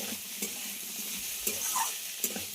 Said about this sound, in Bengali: চালটা আলুর সঙ্গে খুব ভালো করে ভেজে নিতে হবে।